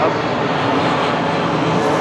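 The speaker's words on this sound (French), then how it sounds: "Et on a aussi des avions, écoutez." An airplane passes overhead, a loud, steady broadband engine roar that holds constant throughout with no talk over it.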